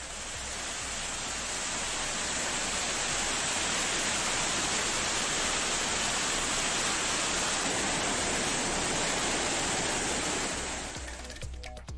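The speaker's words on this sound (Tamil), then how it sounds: "தேனி மாவட்டம் கும்பக்கரை அருவியில் தொடரும் வெள்ளப்பெருக்கு." A flooding waterfall at Kumbakkarai falls in Theni district roars as a dense, loud, unbroken wash of rushing water for nearly the whole stretch, cutting off abruptly at the end, no voices.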